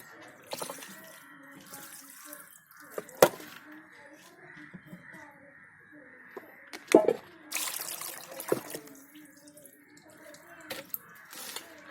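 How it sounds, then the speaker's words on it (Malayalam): Indian gooseberries being washed by hand in a vessel of water, soft sloshing and trickling with a few sharp clinks against the container, moderately close and fairly quiet, with a person speaking at times. "ഇനി ഈ നെല്ലിക്കൊക്കെ പാത്രത്തിലിട്ടിട്ട് കഴുകണം"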